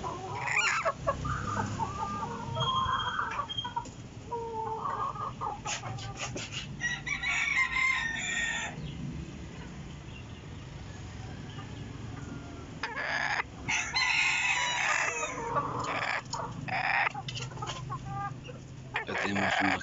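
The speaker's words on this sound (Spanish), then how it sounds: "Acá tenemos más pollos de 4 meses y medio." Young chickens about four and a half months old cluck and crow across a farmyard. Bursts of calling come and go over steady outdoor background noise, moderately near, with no talking.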